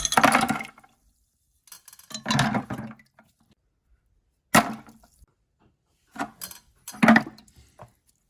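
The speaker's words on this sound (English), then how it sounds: "So I've got a mixture of half a gallon of white vinegar and half a cup of salt, and we're just going to dump everything in there" Rusty metal parts from a fuel tank dumped into a half-gallon bath of white vinegar and salt, giving several separate clattering splashes and clinks in bursts with quiet gaps between, close and moderately loud.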